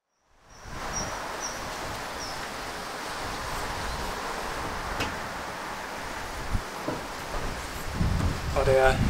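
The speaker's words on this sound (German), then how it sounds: "Der Herbst ist da und mit ihm, naja, Regen und Wind." Autumn wind and rain outdoors, a steady broadband rush of gusting wind and falling rain throughout, rising slightly louder near the end.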